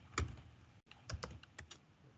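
Keys clack on a computer keyboard in short bursts of several strokes, close and fairly loud, with a brief pause near the middle and no voice over it.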